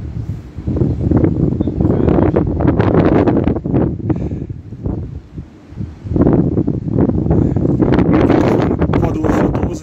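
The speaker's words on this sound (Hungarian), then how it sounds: "Nagyon belök a szél." Strong wind gusting over the Danube Bend during a snow shower, roaring into the microphone in heavy buffeting surges that swell, briefly ease, then return at full force, with no voice heard.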